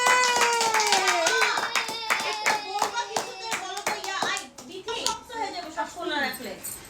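A group of children clap in quick, irregular bursts, close and fairly loud, while young voices shout and chant over the claps throughout.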